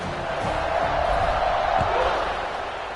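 Football stadium crowd cheering before a kickoff, a loud, continuous broadband roar that holds steady for the whole stretch, with scattered voices mixed into the din.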